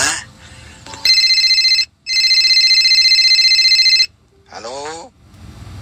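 A telephone rings in two long electronic bursts with a short gap between them, loud and close, and a voice-like sound and a rustle come before and after.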